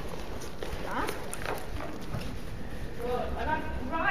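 Hooves of a horse being ridden on a circle in an arena strike the ground in an even rhythm, fairly faint and steady, while a rider talks over them.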